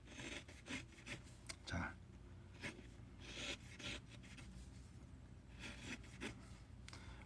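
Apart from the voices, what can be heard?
knife carving wood into a trout fishing float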